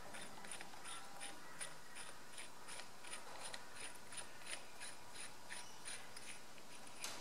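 Threading the compression tester bracket down into a diesel tractor, a Massey Ferguson MF135, makes a steady, quiet train of light metallic clicks and ratcheting ticks, evenly spaced and close, with no talk.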